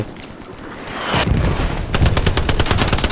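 A burst of rapid gunfire rattles out after a rising whoosh, repeated shots in quick succession, loud and close like game combat.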